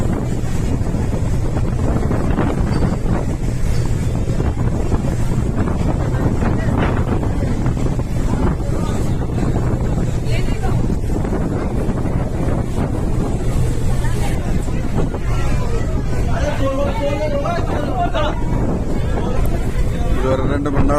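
A boat cruises at sea near Havelock Island in the Andaman Islands, with steady engine drone, rushing water and heavy wind buffeting the microphone throughout, while a person talks over it.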